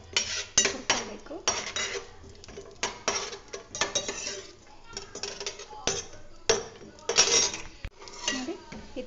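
A spoon scrapes and clinks against a pan as dry fruits are stirred and fried in hot ghee, producing repeated irregular metallic taps and scrapes, close and moderately loud.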